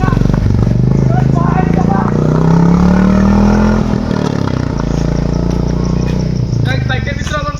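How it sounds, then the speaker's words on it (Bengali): A motorcycle engine runs loud and close with a steady rumble and some rising revs, while a person talks over it throughout. "এই যে আমার বাইকের শব্দ শোনা যাচ্ছে তোরা"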